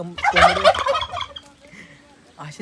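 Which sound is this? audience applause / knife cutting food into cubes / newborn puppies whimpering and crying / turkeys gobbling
turkeys gobbling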